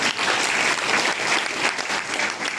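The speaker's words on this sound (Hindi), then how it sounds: "इनके लिए पुनः एक बार तालियां हो जाए" Dense, even applause from an audience after a strong stage performance, continuous and fairly loud for the whole stretch, with no voice on top.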